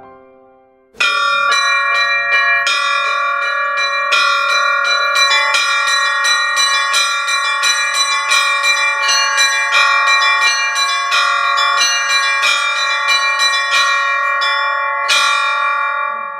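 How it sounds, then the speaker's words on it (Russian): Church bells in a bell tower ring out in a lively peal after a brief quiet start, several bright tuned bells struck in quick overlapping rhythm, loud and resonant with long sustaining tones, alone without voices. "Оксана Бурина привела свою дочь Дарью учиться звонить в колокола 4 года назад"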